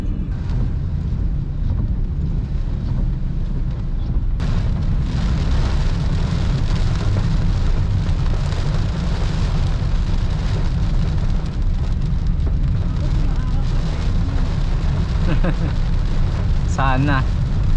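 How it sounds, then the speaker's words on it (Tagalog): Heavy rain drums steadily on a moving 2024 Toyota Wigo G, a dense continuous wash over low road rumble that holds throughout, with faint voices talking inside the car. "Sana nga saglit lang tong ulan na to."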